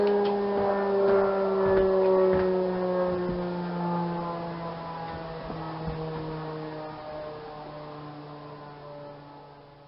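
A rear-propeller canard aircraft drones overhead, its buzzing hum slowly dropping in pitch and fading as it passes into the distance.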